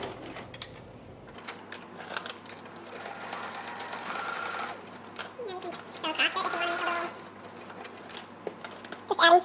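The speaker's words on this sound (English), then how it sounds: "I'm sewing a little rectangle just to the line element" A sewing machine stitches a small fabric rectangle made from repurposed old clothing, its motor whirring steadily up close with short pauses and speed changes.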